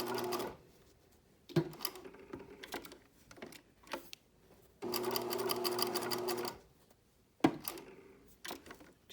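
Sewing machine stitching a broad sleeve band onto a Muna garment: several bursts of steady mechanical whirring, each lasting a second to two seconds, broken by short pauses and soft handling clicks.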